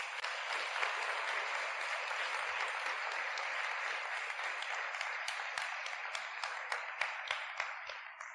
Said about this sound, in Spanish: ¿Cuántos le pueden dar un aplauso bien fuerte a Jesús?